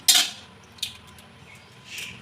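A spoon scrapes and clinks against a bowl as mashed potato is worked together with two eggs: three short, fairly close bursts with quiet pauses between, and no talking.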